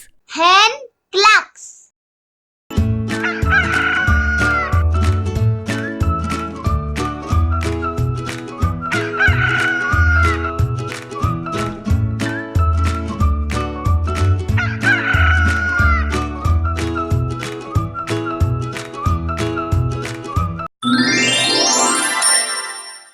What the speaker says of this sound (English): Hen clucks.